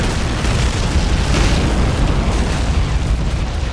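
A heavy explosion in the World War II strategy game Men of War rumbles as a dense, sustained boom that fills the whole moment at loud volume, with no speech.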